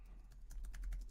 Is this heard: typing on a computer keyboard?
yes